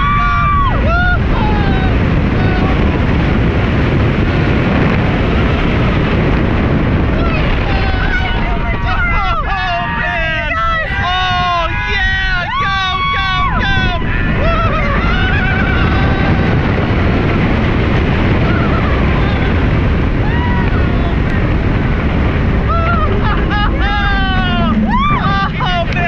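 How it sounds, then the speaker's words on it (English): Loud, continuous rush of wind and track roar aboard the Nitro hypercoaster at Six Flags Great Adventure, with riders screaming and shouting over it throughout. "we are here riding Nitro at Six Flags Great Adventure"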